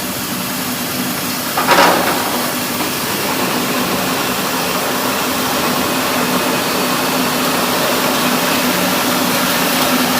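A 2025-model rice mill destoner runs on paddy mixed with nuts and bolts, a loud, steady mechanical whir and rumble with a brief rattling burst near the start, continuing evenly without speech.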